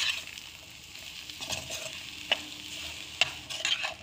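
A spiced mixture with salt, meant for aloo bread pakora filling, is roasted lightly in a pan, producing a soft, even sizzle with gentle stirring scrapes and two sharp spoon clinks.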